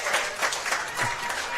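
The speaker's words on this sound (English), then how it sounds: "The crowd erupts." Crowd applause breaking out at a men's division 1 lawn bowls state pennant final after a fine shot, a dense, steady wash of clapping with scattered cheers throughout.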